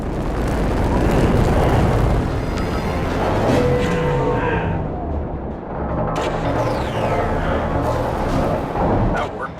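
In a Star Trek PC game, weapons fire blasts an obstacle open in a continuous roar of booms and bursts, loud and close, with layered rumbling and sharp pops throughout.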